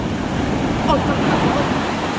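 Ocean surf rolling in at Bucana beach, a steady broad wash of breaking waves with wind noise on the microphone, continuous and fairly loud throughout.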